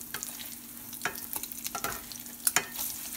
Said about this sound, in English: So we're going to fry these up until I start to see the edges get a little brown, and then we'll flip them.